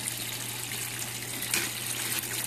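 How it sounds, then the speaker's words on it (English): Water trickling and flowing through a bell siphon in an aquaponics setup, a soft continuous gurgle over a low steady pump hum, with no one talking. "the bell siphon is raising and lowering the water in the device"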